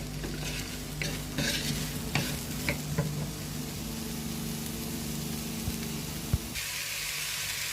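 Courgettes with eggs simmer in a pan with a soft steady sizzle while a utensil stirs and scrapes, giving irregular clinks and knocks close by, without talk.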